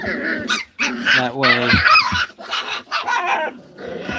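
Mini poodle and doodle puppies play-fight close by, letting out yips, growls and squeals in quick bursts, with a person talking over them.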